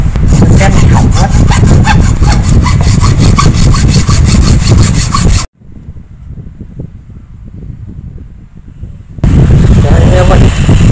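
Loud, steady back-and-forth sawing through a frangipani tree branch, stopping abruptly midway for a few seconds of quieter rustling before the sawing resumes.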